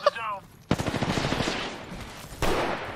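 Video game gunfire rattles in a rapid automatic burst of close, loud shots, then stops briefly before a second burst starts, with a voice heard in the background.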